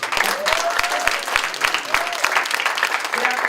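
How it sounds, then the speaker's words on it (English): Audience applause at a Kwanzaa event, a steady moderate crowd clapping that fills the whole stretch, with a few faint voices mixed underneath. "Please applaud Mr. Days."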